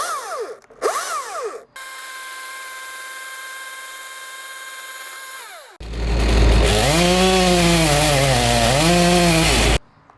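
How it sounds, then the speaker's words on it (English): A Husqvarna 540i battery electric chainsaw whirs up to speed in a few short bursts, then holds a steady high whine, then bites into wood with a louder rough cutting roar that wavers in pitch before cutting off abruptly, close by, with no talk. "Power on, power off, that's it. And now it's running."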